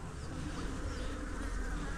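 A dense, continuous buzzing of many honey bees in an open hive during an inspection fills the air up close, steady and unbroken throughout.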